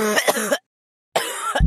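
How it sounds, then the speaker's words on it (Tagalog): An elderly grandmother coughs and clears her throat in two loud, close bursts separated by a short silence, with a low thump at the very end. "Mukhang lumalala na yata ang ubo ni Lola."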